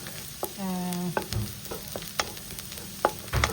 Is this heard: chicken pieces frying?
yes